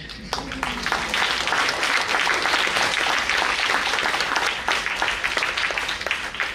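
Theatre audience applauding loudly in a packed hall, a dense, steady wash of many hands clapping that carries on without a break.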